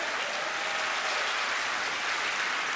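A concert audience at a televised show applauds the performers, a dense, continuous roar of many hands clapping throughout, loud and even with no pauses.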